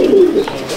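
A heavily feathered Sadhana-breed pigeon gives a single short, close coo, soft and low, heard alone.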